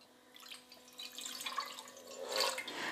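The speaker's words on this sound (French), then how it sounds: "500 ml d'eau dans la poêle." Half a litre of filtered water poured into a pan for heating with soap flakes, a close, steady splashing trickle that grows louder and fuller toward the end, with no speech.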